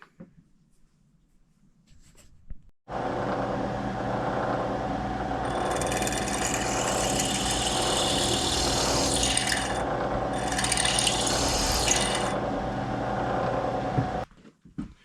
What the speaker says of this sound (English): So now we'll just drill it out, and then we'll put the tap in